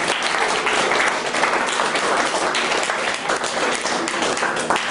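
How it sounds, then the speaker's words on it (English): An audience at an atheist versus Christian debate gives the debaters a dense, loud round of applause, sustained clapping throughout. "give these guys a round of applause."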